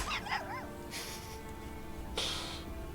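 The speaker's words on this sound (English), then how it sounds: "now listen closely to the little yip yips and barks" A small dog in the Darkest Dungeon 2 video game gives a run of quick, high yips and short barks, moderately loud over a steady game background.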